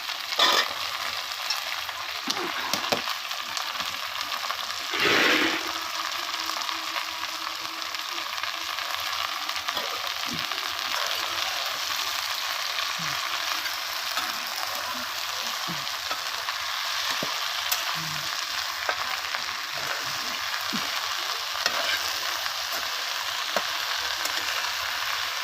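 Leafy greens sizzle and fry in a pan over a wood-fired clay stove, a steady crackling hiss running throughout with occasional scraping stirs and small clatters close by.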